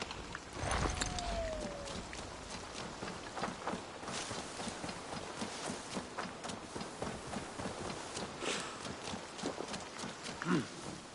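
Horse hooves walking in the video game Assassin's Creed Valhalla on PS5, a steady clip-clop rhythm under broadband game ambience with music and effects layered over it.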